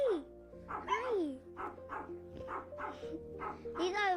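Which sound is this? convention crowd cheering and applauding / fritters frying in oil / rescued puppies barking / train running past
rescued puppies barking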